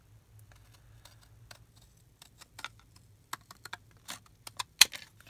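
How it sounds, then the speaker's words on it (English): Scissors snipping a square out of packaging material for a junk-journal embellishment, a series of quiet sharp cuts that grow more frequent and louder toward the end, with no talking. "So I'm just going to cut out the square of this one."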